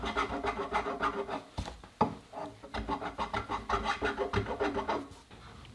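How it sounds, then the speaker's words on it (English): Bastard file rasping across the wooden stock of a Winchester Model 54 rifle to level it for a recoil pad, repeated close scraping strokes in an even rhythm with a brief pause partway through. "we're going to grab that bastard file, see if we can get this thing leveled out so that pad can go on"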